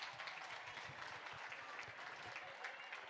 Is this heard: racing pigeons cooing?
no